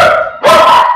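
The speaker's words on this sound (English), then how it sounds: "Prepare for the dogs to go off." Dogs bark loudly and close by at a rural home on a dirt road, two sharp, drawn-out yelping barks in quick succession with no talk over them.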